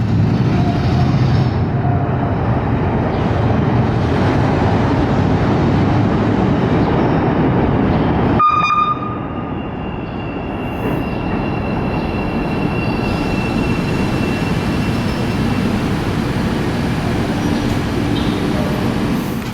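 A four-car Chicago CTA Pink Line elevated train rumbles past loudly and steadily on the Loop, with a sharp metallic wheel squeal cutting in midway before the heavy rolling noise continues.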